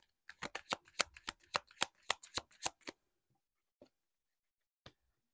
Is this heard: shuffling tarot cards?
yes